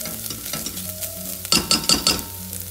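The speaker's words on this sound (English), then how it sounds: "We let this cook until onion turns golden brown in color." Onion, garlic and spices fry in a pan with a bay leaf, a soft steady sizzle with a few louder bursts of stirring and scraping near the end, no talk.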